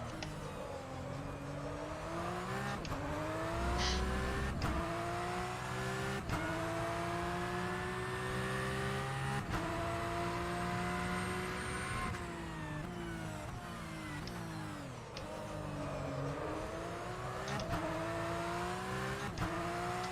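A Porsche 911 Cup race car laps Spa-Francorchamps in rFactor 2, its engine rising in pitch through each gear, then dropping sharply on upshifts and braking, with repeated revving cycles close and steady throughout.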